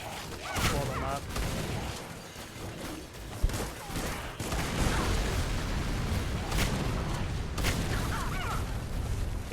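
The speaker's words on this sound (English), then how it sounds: "Yeah, it's like a giga explosion." Explosions and gunfire in the video game Supplice, rapid crackling blasts and booms layered in a dense, continuous roar of combat lasting the whole stretch, with a sharp peak partway through.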